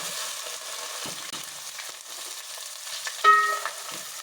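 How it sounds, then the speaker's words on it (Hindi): Onions frying in a pan for achar gosht, a steady low crackling sizzle throughout with a brief louder burst of stirring near the end. "फ्राई कर लेते हैं प्याजों को, डालते हैं"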